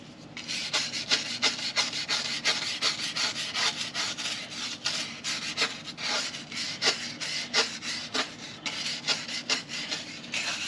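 Hand rubbing brake dust into raw, uncoated aluminum, a fast rhythmic scrubbing rasp repeating steadily and close up, with no voices.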